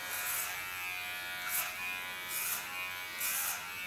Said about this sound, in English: this is a clipper of Kiona, is laying a bit to the back